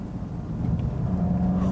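Inside a 2019 Volkswagen GTI hot hatch on the road, a low engine drone and road rumble fill the cabin, holding steady and swelling slightly toward the end.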